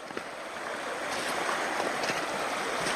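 Flowing river water near Cleveland, Georgia gives a steady, full rushing hiss with slight surges, close and continuous, with no speech.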